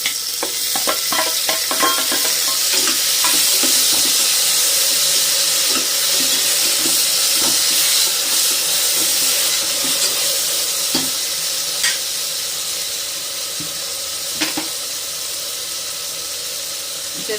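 Chopped onion and tomato fry in a pan for a Tamil mochai payir kootu, a continuous loud hiss and sizzle with light stirring clinks throughout.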